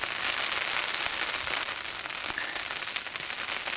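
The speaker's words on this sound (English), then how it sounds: "The wind and rain continuing to hammer down." Heavy rain with wind hammering down on a riverbank while barbel fishing in October, a dense steady hiss of drops striking surfaces, close and continuous with occasional louder patters.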